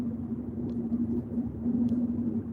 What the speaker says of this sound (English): I'm going at 65 kilometers per hour, and it's like almost an empty highway